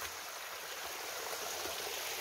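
Steady rushing of running stream water on a small farm, used for washing hands, continuous and close with no talking.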